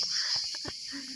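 Crickets in a quiet mountain area keep up a steady, high, continuous trill throughout, while a voice speaks briefly in the foreground.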